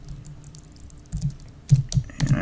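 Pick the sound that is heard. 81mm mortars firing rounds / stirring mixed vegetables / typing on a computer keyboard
typing on a computer keyboard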